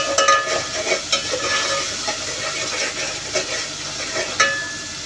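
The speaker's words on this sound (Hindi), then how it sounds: "अच्छे से भूनेंगे ताकि अदरक लहसुन का कच्चापन हटा हो और प्याज भी अच्छे से पक जाए।" Ginger, garlic and onion frying in oil in a pan, a steady crackling sizzle with occasional stirring scrapes, moderately close, no talking.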